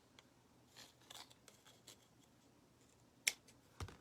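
Wire being snipped for a beach-themed wreath, a few quiet clicks and rustles leading to a sharp cut and a second snip, close and faint.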